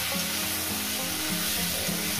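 Potatoes and okra crackle and sizzle steadily in hot oil in a pan, a loud, close, unbroken frying hiss with faint stirring texture.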